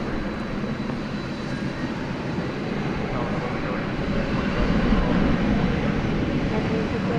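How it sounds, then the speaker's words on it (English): Airbus A321 jet arriving from Denver at Dallas Fort Worth airport, a steady broadband engine roar holding level and swelling slightly toward the end, with a voice talking over it. "This aeroplane, an Airbus A321, coming in from Denver."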